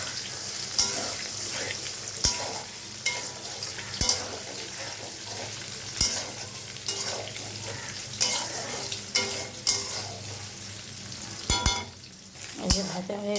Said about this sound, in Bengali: আলাদা ডিমটা ভাজিনি, একসঙ্গে ভেজে দিচ্ছি।